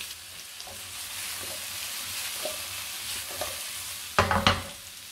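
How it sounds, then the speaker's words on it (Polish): Vegetables fry for Hungarian beef goulash in a pan, giving a steady soft sizzle with a few scrapes of stirring and a louder clatter of utensil against pan near the end, no voices. "I również obsmażamy około 3 minut"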